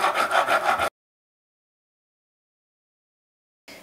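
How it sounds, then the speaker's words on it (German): Cake saw drawn through a layer of sponge cake for a peach and raspberry torte: a brief, close rasping scrape of rhythmic strokes, then silence, then a faint restart at the end. "Und jetzt kann ich diese Säge ansetzen und halte hier mit der Hand fest und säge jetzt einmal durch."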